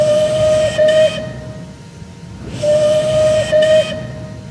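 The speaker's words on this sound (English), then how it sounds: "Here we have the bell whistles." Steam whistle of an SR Merchant Navy class locomotive in Train Simulator: two sustained hissing blasts, each with a short break in the middle, sounding loud and close with a steam hiss underneath and no talk.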